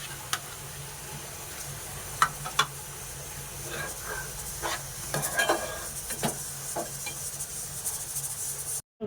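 Paneer curry frying in a pan with oil, stirred now and then, giving a steady low sizzle broken by scattered scrapes and clinks of the spoon against the pan, close and moderately loud, with no one talking.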